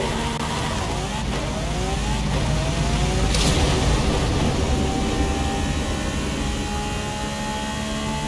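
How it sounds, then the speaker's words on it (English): A 1500-horsepower Lamborghini Centenario in Forza Horizon 5 accelerates flat out on a top speed run, its engine a steady loud drone with rising gear-change sweeps, wind-like roar throughout. "Fifteen-hundred horsepower Lamborghini Centenario top speed test."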